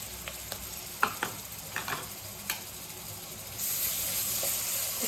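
A paste of ground coconut, tomato, coriander and green chili is added to a hot pan and fries, with a few sharp scraping clicks first, then a steady, louder sizzle that holds to the end.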